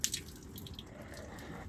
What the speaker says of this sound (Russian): Вода стекает.